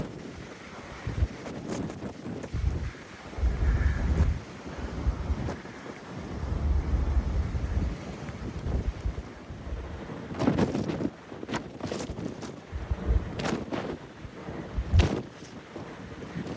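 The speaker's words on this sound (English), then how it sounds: "Very breezy." Strong wind buffets the microphone on the open top deck of the Fred Olsen cruise ship Bolette, a steady roar with louder gusts and bursts, no talking.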